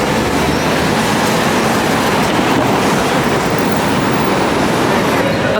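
A New York City subway train gives a loud, continuous rumbling roar of wheels and cars, steady and close throughout.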